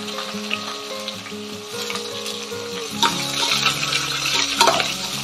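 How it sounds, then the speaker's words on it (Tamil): Three large onions, sliced lengthwise, sauté in a pot for one-pot chicken biryani, a close, steady sizzle and crackle with stirring that grows busier midway. "வெங்காயம் நல்ல கோல்டன் ப்ரௌனாக வர வரைக்கும் வதக்கணும்."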